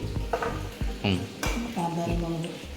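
A handful of small onions drops into hot oil in a frying pan, sizzling steadily with scraping stirs and utensil knocks, while people talk over the cooking.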